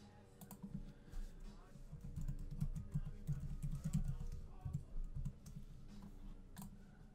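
Clicks of someone typing a username and password on a computer keyboard, a steady patter of keystrokes over a low background hum, fairly faint and close.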